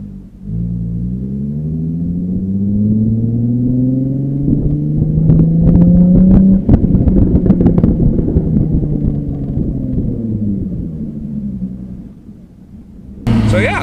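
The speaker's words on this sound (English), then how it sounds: "my drive with the Jaguar F-Type V6, 3-liter V6 supercharged" A supercharged 3-liter V6 Jaguar F-Type drives hard, its engine rumbling loud and close as the revs climb in a long sweeping pull, then ease back before a sudden burst at the end.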